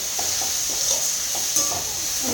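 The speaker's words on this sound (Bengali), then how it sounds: "ভালো করে নাড়াচাড়া করে কষাই নিচ্ছি" Spices with turmeric and coriander powder are stirred and sautéed in hot oil, a steady close sizzle with soft intermittent scraping strokes of a spoon against the pan.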